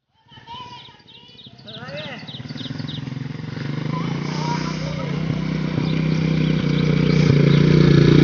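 A motorcycle approaches on a rural road, its engine growing steadily louder over several seconds while children and other people talk in the background.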